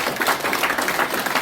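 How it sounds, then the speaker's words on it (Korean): Short, lively applause from a crowd at a party merger press conference, many hands clapping close and fairly loud in a quick, continuous patter. "여러분이 뜨거운 힘찬 박수로 환영해 주셔야 되겠습니다"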